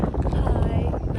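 Wind blows outdoors at a scenic beach spot, a steady close rushing and buffeting noise that fills the whole moment without a break.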